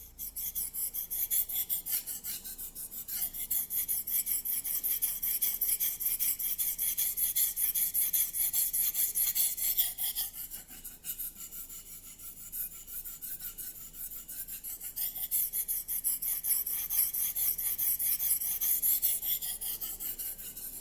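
A Racer M knife is drawn steadily across a Japanese whetstone, producing a continuous gritty rasp of repeated strokes over about twenty seconds, close and alone with no talking.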